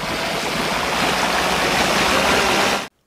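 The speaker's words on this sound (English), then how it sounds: "He tackles Leatherface into the water where the two begin fighting." Heavy, continuous churning water splashes loudly as two people struggle in it during a horror film fight, with a chainsaw still running in the water; the roar cuts off abruptly at the end.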